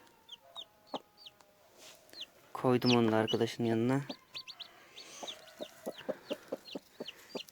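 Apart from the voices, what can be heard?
newly hatched chicks peeping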